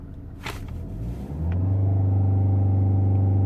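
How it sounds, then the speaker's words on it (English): Volvo S40 1.6 diesel with a fault code and in limp mode, revved at full throttle while stationary: idle rumble swells into a loud, steady high-rev drone that holds near the limiter. "When you press the throttle, I'm gonna press full throttle."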